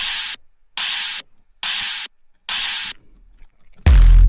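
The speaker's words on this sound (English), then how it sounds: "a distorted sub bass, and which is just like a noise sample from the Serum noise oscillator" Four bursts of harsh, hissy noise from a Serum noise oscillator pulse in an even rhythm, followed by a final louder hit with a heavy distorted sub bass boom.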